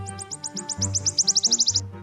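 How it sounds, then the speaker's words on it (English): A wood warbler's song plays back from a recording outdoors on Dartmoor: a series of high ticking notes that speed up into a shivering trill over a low hum. "lure his target with a recording of another wood warbler singing"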